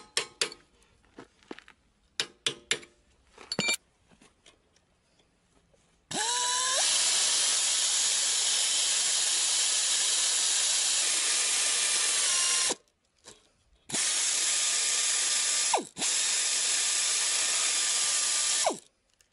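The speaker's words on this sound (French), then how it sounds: "je vais devoir prendre une perceuse et repercer le trou dans le cardan" A power drill re-bores a pin hole in a Citroën Traction 11 driveshaft. First come scattered clicks and tool knocks. Then the drill whines loudly and steadily for about six seconds, stops, and runs again in a second long, high-pitched burst that shifts pitch as it cuts.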